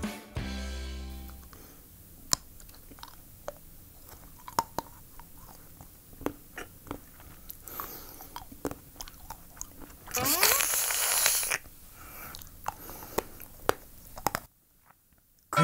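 Makgeolli-flavored chocolate being chewed close to the mic, with soft, sparse crunches and mouth clicks in quiet surroundings and a brief rustle partway through.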